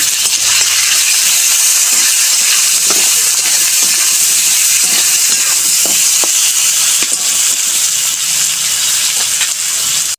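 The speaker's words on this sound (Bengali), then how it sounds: "নুন, লঙ্কা গুঁড়ো অল্প, এটা আমি ভালো করে ভাজবো।" Vegetables frying in hot oil with salt and chili powder, a steady loud sizzle and hiss filling the whole stretch with faint occasional taps of a utensil.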